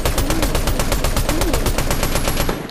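Assault rifle fire in a video game, a loud, steady automatic burst of evenly spaced shots that runs without pause and then cuts off abruptly.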